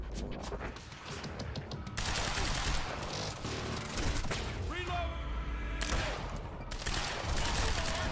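Gunfire in the Quantum Break video game, with rapid bursts of shots and a busy background of game effects, and voices heard faintly over the action.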